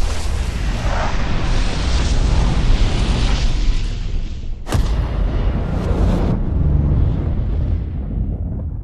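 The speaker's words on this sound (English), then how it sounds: "get two explosions, two binary compounds, to detonate at roughly the exact same time with one bullet" A loud, sustained rumbling roar of explosions, binary explosives set off by a rifle bullet, with a sharp burst of detonation midway followed by continued heavy rumble.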